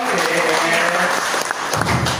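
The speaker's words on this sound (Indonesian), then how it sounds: "Tepuk tangan dong buat Pak Tomo dong." An audience claps in a lively burst of applause at an Indonesian gathering, the sound close and full throughout, with voices mixed in under the clapping.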